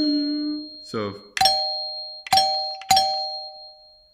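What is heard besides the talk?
doorbell chime, solenoid striking two metal plates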